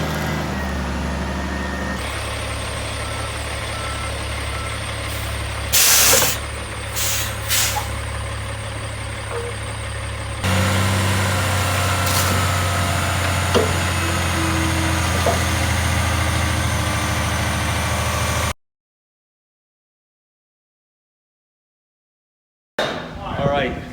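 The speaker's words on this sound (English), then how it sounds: "got the dump truck here" A dump truck hauling sand idles with a steady low engine rumble, broken by loud hissing bursts of its air brakes. A voice talks over it before the sound cuts to silence and briefly returns.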